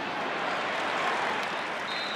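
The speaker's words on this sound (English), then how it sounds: "You hear the crowd getting a little bit restless." A large football stadium crowd roars and cheers steadily during a college game between Notre Dame and Georgia Tech, a dense, continuous wash of noise.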